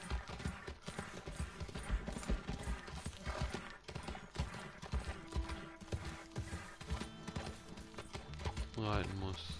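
Rhythmic hoofbeats clatter steadily at a galloping pace in Red Dead Online, with a horse whinnying near the end and game background sound throughout.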